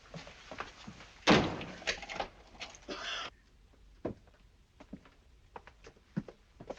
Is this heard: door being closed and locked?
yes